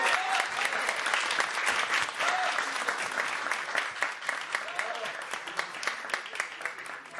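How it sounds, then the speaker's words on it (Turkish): Audience at a foundation's iftar dinner gathering breaks into sustained applause, a dense wash of many hands clapping that holds steady before thinning toward the end, with faint voices underneath. "Ona bir kocaman alkış almak istiyorum."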